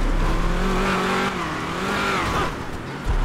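A modded 702-horsepower 2021 Ram TRX truck in GTA 5 drives an off-road trail, its engine droning and revving steadily at close range, with rising and falling pitch and a brief dip near the end, heard alone without talk.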